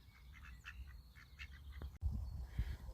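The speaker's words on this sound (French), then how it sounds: "je suis escorté par des canards qui m'ouvrent la route." Mallard ducks quack softly several times at a distance over a low rumbling background, with a sudden louder handling thump partway through, beside ponds in the Dombes, France.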